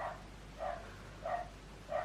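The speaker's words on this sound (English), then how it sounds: "Sorry about the dogs next door" Next-door dogs bark in four faint, evenly spaced yips, distant and muffled behind a quiet indoor background.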